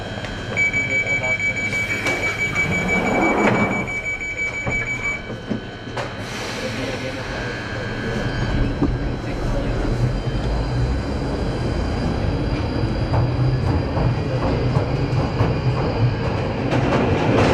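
A London Underground train bound for Morden rumbles and roars steadily, its wheels clattering on the rails, while a tone sounds near the start and the noise swells as the train picks up speed.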